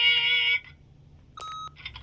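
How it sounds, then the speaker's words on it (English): An answering machine in The Wolf Among Us video game gives a long steady electronic beep, then a second shorter tone and a brief chirp after a pause, loud and clear with no talking. "Beep!"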